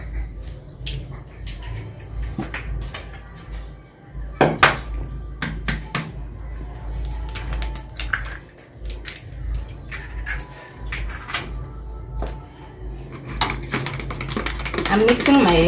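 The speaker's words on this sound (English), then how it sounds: "I'm mixing my eggs." Eggs mixed in a bowl for mandazi dough: quick, irregular clinks and taps of a utensil against the bowl, fairly close and moderately loud, with intermittent pauses and faint background talk.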